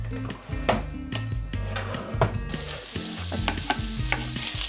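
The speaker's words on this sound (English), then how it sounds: "We're gonna caramelize that all down with some mushrooms until we have this beautiful, thick, rich, buttery sauce." Onions, garlic and mushrooms frying in a pan, cooked down toward a thick buttery vegan sauce, with steady sizzling and repeated scrapes and knocks of stirring, close and moderately loud, over a tonal musical bed.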